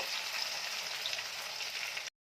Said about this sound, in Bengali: দিয়ে পেঁয়াজটাকে আগে একটু হালকা করে ভাজা করে নেব।